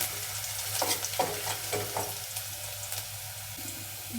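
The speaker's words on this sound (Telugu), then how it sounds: "అల్లం వెల్లుల్లి బాగా ఫ్రై కానిద్దాము" Ginger and garlic frying in an oiled pan for gobi manchurian, a steady soft sizzle with a few light stirring scrapes, heard alone without voices.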